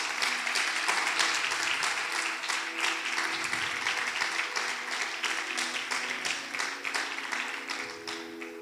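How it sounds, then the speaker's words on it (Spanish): A church congregation gives sustained applause during a Spanish-language service, a full room of clapping with audible individual hand strikes, steady then gradually easing over several seconds. "Dale un fuerte aplauso a la palabra de Dios."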